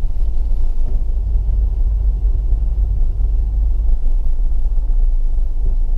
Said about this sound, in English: Again, car's vibrating.